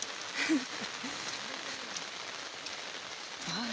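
Steady rain patters on a surface outdoors by a river, a soft continuous wash of drops with faint intermittent background sounds.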